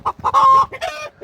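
F2 Olive Egger hens clucking close by, a few short rhythmic bursts of clucks and squawks in quick succession with brief gaps between.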